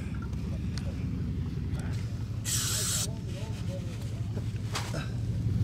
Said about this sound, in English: Grab some brake clean.